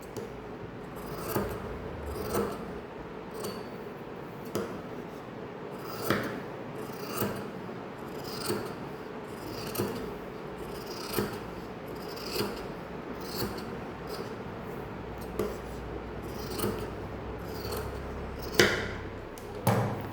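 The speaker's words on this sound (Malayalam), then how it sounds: "ഇനി ഇതിൻ്റെ അരിവെല്ലാം ഒന്ന് കട്ട് ചെയ്ത് കളയാം." Scissors snip steadily along the fabric edges of a saree, with regular close cuts about once every second and soft rustle of cloth between them, no voices.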